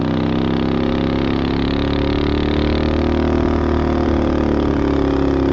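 A street legal mini bike's small engine drones loudly and steadily during a test ride, a close continuous buzzing hum with harmonics that rise slightly as the bike gains speed, with no talking.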